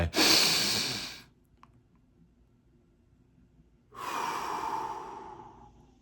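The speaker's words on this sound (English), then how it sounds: "I was doing my breathing" Deep breathing, heard as a long loud breathy exhale that fades out, then near silence for a few seconds, then another sustained breath begins. The breaths are close and heard alone.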